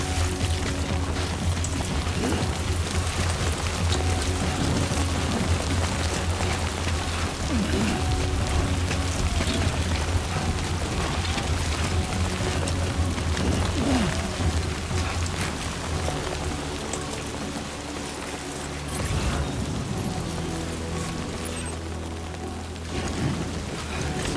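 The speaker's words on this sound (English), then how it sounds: "Great. Rain. Gotta move." Steady, dense rain falls in the video game Death Stranding 2, a continuous broadband wash that stays loud and even throughout with a low rumble underneath and no clear voices.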